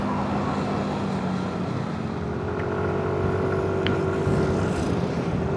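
Dense, slow-moving traffic on a busy intercity road in Pesawaran, Lampung, with steady low engine rumble from many cars and trucks heard from inside a vehicle, constant and fairly loud throughout.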